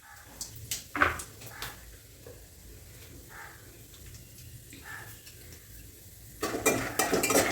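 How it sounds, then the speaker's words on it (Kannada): Peanuts and chickpeas stirred into hot oil in a pan with cumin and mustard seeds for a quick Kannada breakfast, giving soft sizzling with scraping and clinking of a spoon against the pan, growing louder near the end. "ಸೇರಿಸಿ ಸ್ವಲ್ಪ ಕಲಿಸ್ಕೊಳ್ತಾ ಇದ್ದೀನಿ"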